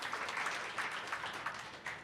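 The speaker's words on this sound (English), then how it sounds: "Round of applause." An audience at a community meeting claps in a short burst, the applause quiet, dense and even across the full two seconds.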